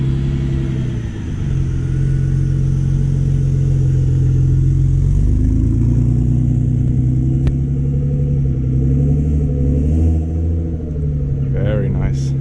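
A BMW E46 car engine drones low and steady while driving, a continuous near rumble that rises a little partway through, with voices around it.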